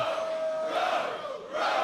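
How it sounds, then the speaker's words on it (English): A sold-out wrestling crowd in Atlanta, Georgia roars and chants in a loud, sustained wash of cheering that swells and dips slightly, with no clear speech. "Sold out crowd here in Atlanta, Georgia, torn between these three men and who they're rooting for."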